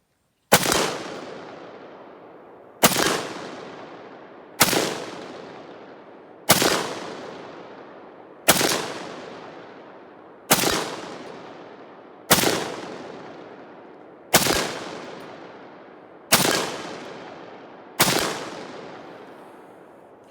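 An M1941 Johnson rifle fires ten loud, sharp single shots outdoors at a slow, even pace about two seconds apart. Each crack rings out into a decaying echo, with no talk between the shots.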